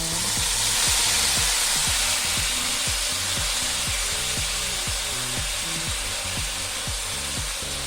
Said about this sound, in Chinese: 稍微再煎一下